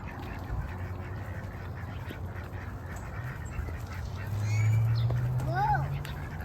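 Ducks at a park quack a few times, louder toward the end, as they scatter toward the water while being chased, with outdoor background noise and faint voices.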